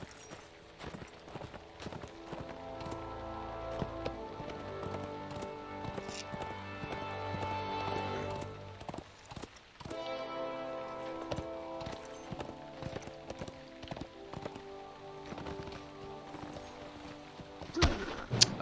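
In The Lord of the Rings Online, a horse gallops with steady rhythmic hoofbeats under game music and ambience. There is a brief dip midway, and a sharp hit lands near the end.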